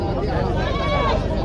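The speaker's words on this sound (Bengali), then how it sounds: "এখানে একটি ছাগল, একটি বাচ্চা আছে," Goats bleating at a rural goat market in Nazipur, Naogaon, a few wavering bleats close by mixed with crowd noise and people talking.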